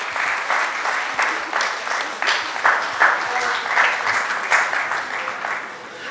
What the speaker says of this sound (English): Please join your hands to give them a big round of applause